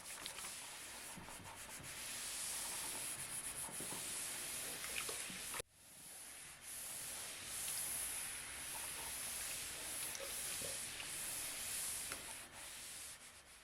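An iron glides back and forth over a 100% cotton fabric panel set to cotton or medium-high heat, giving a steady soft rubbing hiss with a brief pause midway, faint and close, with no voices.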